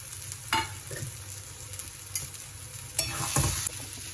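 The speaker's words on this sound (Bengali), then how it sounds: "এগুলো দিয়ে একবার নেড়ে নেব।" Fried peanuts, raisins and bori stirred in a pan with kalmi greens, a quiet low sizzle with a few spatula scrapes and knocks, clustered near the end.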